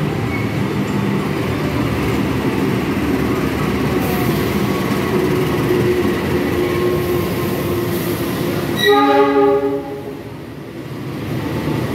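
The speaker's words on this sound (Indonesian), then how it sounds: "ada yang mau datang lagi nih, kereta api Argo Bromo Anggrek dari Surabaya Pasar Turi" A passenger train, the Argo Bromo Anggrek from Surabaya Pasar Turi, rumbles steadily along the tracks arriving at Gambir station in Jakarta, then a horn sounds in a short blast as it nears; no voices are heard.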